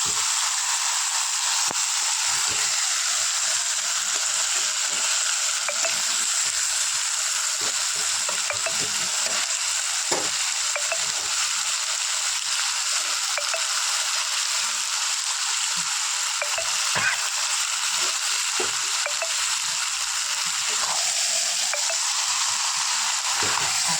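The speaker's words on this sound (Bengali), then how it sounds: "মাংসটা কষা করতে গেলে একটু মাঝে মাঝে নেড়ে দিতে হবে" Chicken coated in masala fries over high gas in a pan, a loud, steady sizzle running throughout with intermittent scraping and stirring.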